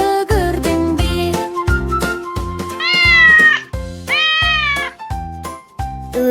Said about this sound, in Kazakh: Мяу-мяу деп дыбыс бар